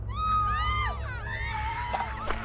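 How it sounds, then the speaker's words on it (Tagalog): Villagers shouting in a village at night, a blend of high wavering cries and yells from several voices, fairly close and continuous, with sharper shouts near the end. "bakit kaya may sigawan dito sa baryo natin?"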